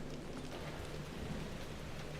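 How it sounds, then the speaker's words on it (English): Rain falls steadily outdoors, a faint, even hiss of drops with no talking and no pauses. "And rain, too. I'll take the rain."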